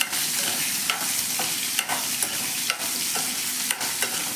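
Chopped medium onion being stirred and roasted in a pan for an onion-garlic chutney: a steady close sizzle broken by regular spoon scrapes and stirring strokes, with no talking.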